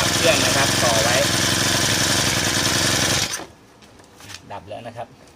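A Chinese GX35 four-stroke brush cutter engine runs loud and steady with a buzzy, rattling drone, then cuts off abruptly, leaving someone speaking over quiet surroundings.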